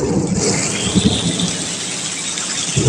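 Heavy monsoon rain pours down in Kalsuli in the Konkan countryside, with low rolls of thunder rumbling through the steady, dense hiss of the downpour.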